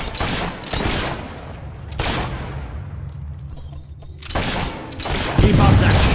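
Gunfire in the action game Fable III: repeated loud volleys of shots in several bursts with short gaps between them, ending in a heavier crash.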